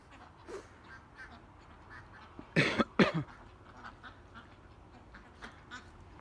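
A short cluster of nasal duck quacks rises out of a steady outdoor background, fairly close, with faint ambient noise around it.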